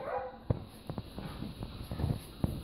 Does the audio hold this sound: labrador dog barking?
yes